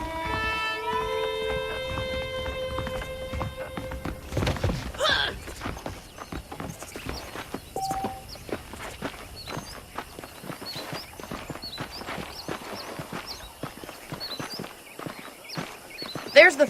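Horse hooves clip-clop in Red Dead Redemption, a steady run of close, sharp hoof strikes continuing for many seconds beneath sparse in-game voices, after some opening music.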